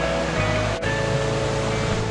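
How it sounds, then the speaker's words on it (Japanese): A mountain waterfall in Kawamata, Inami, Wakayama, Japan, heard as a steady, dense rush of falling water that fills the scene continuously at close range, without talking. "本当に素晴らしい滝であります"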